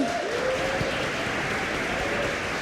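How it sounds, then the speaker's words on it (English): Steady audience applause fills a room at the close of a book event, a dense even wash of clapping throughout with a faint tone drifting underneath. "Can we please just have a big round of applause to say thanks to Pumla?"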